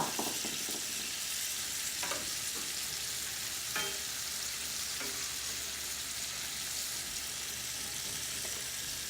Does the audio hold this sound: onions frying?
yes